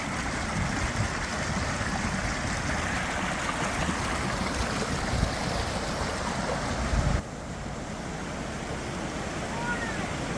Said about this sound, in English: That was a lot of water that little culvert was moving.